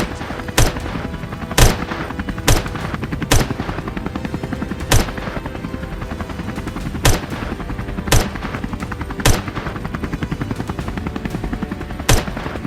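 Rifle shots are fired at wild boar from a hovering aircraft, with sharp cracks spaced about a second apart over a constant, loud rotor drone that continues throughout.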